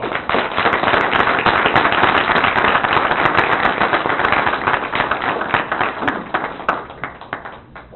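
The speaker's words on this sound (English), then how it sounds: "give him a round of applause" A city council meeting audience breaks into loud, dense applause that holds steady for several seconds before thinning into scattered claps at the end.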